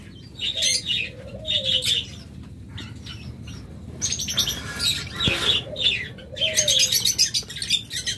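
Caged pet birds such as lovebirds, budgerigars, doves and cockatiels chirp and tweet in repeated bursts, close and fairly loud, with soft cooing and wing flutters underneath and no talking.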